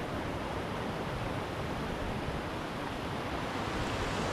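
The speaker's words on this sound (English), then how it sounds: "I love the sound of these mountain creeks" A mountain creek rushing steadily, a loud, constant broadband wash of flowing water with no pauses, heard up close.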